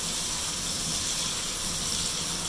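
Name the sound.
ginger garlic paste frying in a pan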